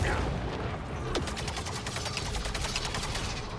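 Rapid volleys of gunfire in the video game Realm of Ruin, a fast, steady burst of repeated shots at moderate level with a sharp crack near the start, layered over battle noise.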